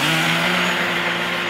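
A 3D-printed jet-propulsion RC boat runs its motor at about a third of throttle, giving a loud, steady buzzing whine with a strong constant hum throughout, close and alone.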